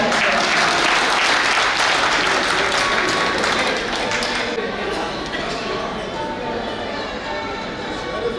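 An audience claps steadily for about eight seconds, a dense, loud wash of applause that eases slightly toward the end, with voices faintly mixed in.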